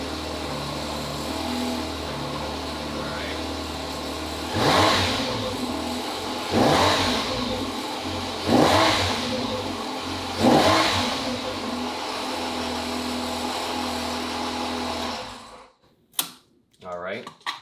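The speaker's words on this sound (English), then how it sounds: "I'm going to turn it on, rev it a little bit, see how that feels." A Ferrari Mondial t engine being started and revved in short bursts, four distinct rising throttle blips over a steady idle, close and loud, then shut off with a few clicks at the end.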